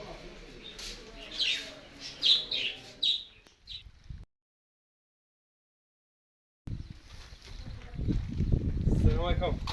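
Newly bought budgerigars chirp and tweet in quick bright bursts, fairly close, followed by a stretch of silence and then rustling and handling noise with chirps under it, while people talk.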